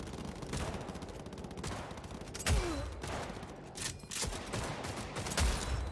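Gunfire in the video game Cyberpunk: a fairly quiet, steady run of rapid shots with a few heavier cracks, heard on its own with no talking.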